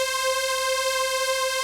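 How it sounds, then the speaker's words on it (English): A plain, bright synth chord holds steady and sustained, buzzy and harmonically rich, with no movement or variation. "we're gonna first start off with just kind of like a synth"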